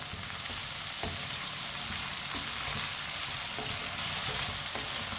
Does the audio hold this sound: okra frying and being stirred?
yes